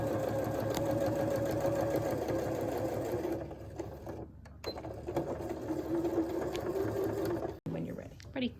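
Close, continuous whirring of a sewing machine topstitching a shirt yoke, steady for several seconds, then slowing and stopping with a few clicks and handling noises.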